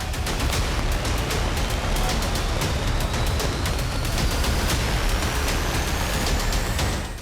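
Loud, dense crackling of fireworks going off in rapid, continuous bursts of sharp pops, with no pauses and no voices.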